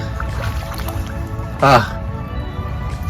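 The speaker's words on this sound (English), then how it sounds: "I'm crossing a creek here and I'm already knee deep" Feet wading knee deep through a creek on the Florida Trail, a close splashing slosh of water that stands out briefly amid faint background noise.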